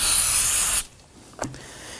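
A loud, steady spray hisses for under a second onto a rear brake assembly of a 2005-2009 Subaru Legacy, then cuts off, followed by a small clink and quiet.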